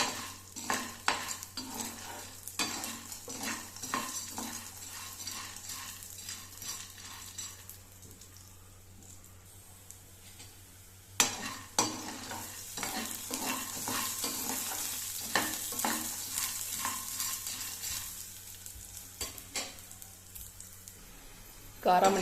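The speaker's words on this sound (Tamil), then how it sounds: "காராமணி பயிறு கொஞ்சம் செவந்து வரணும்," Karamani beans roasting in a pan for kulambu, with repeated spoon scrapes and stirring over a soft sizzle, steady and close with a louder clatter midway.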